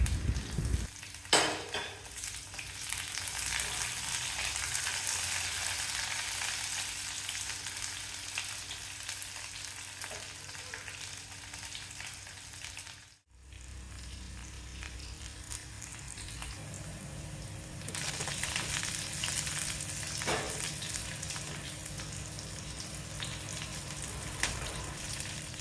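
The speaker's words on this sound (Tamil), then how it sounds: "பாவக்காய் கொஞ்சம் வதங்கினதுக்கப்புறம் வெங்காயம் பூண்டு கருவேப்பிலை எல்லாத்தையும் சேர்த்து வதக்கலாம்." Bitter gourd sizzles in oil with onion, garlic and curry leaves, a steady frying hiss broken by occasional stirring scrapes and a brief pause midway before the sizzle returns.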